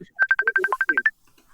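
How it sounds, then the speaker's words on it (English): Phone ringtone: a quick run of about eleven short, evenly spaced electronic beeps of nearly the same pitch, close and clear, then silence. "Am I ringing? Who's ringing?"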